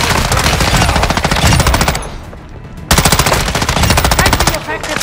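Rapid automatic machine gun fire in Call of Duty Warzone on Ashika Island, loud sustained bursts with a short pause in the middle before the shooting resumes.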